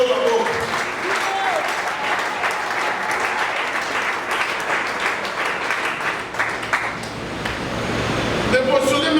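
Church congregation applauding throughout a consecration service, dense sustained clapping with some voices mixed in, fairly loud and continuous.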